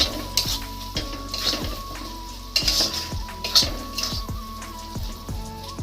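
Tomatoes go into a pan of sizzling chicken curry spiced with turmeric, chili powder and garlic, giving a steady hiss with repeated clattering knocks and a faint tonal hum throughout.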